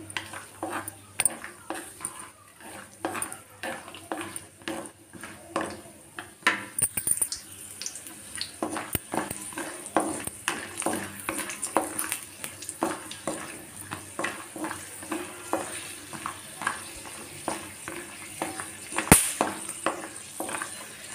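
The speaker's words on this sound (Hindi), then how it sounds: "थोड़े ही बादाम और काजू लिए हैं अब इन्हें अच्छे से रोस्ट करेंगे" Almonds and cashews roast in a pan with repeated clinks and scrapes of a utensil stirring, close and fairly quiet, with no talking.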